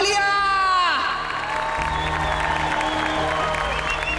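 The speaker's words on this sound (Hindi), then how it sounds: "तालियां।" Audience applause and cheering at a televised competition, crowd clapping and whoops rising after a descending musical sting, with shouting voices mixed in over background music.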